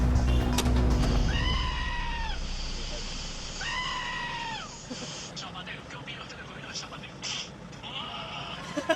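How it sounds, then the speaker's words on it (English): Goats let out loud, drawn-out, almost human-sounding screams, two long cries followed by a third, with some clatter and background noise. "Goats screaming like people makes a change from people acting like goats."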